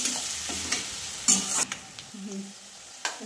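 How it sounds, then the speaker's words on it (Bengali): Chopped onion and green chilli fry in oil for a potato chicken curry, with soft sizzling under several scraping stirs of a spatula, close up and fairly quiet, no speech. "পেঁয়াজ কুচিটাকে ভালো করে ভেজে নেব"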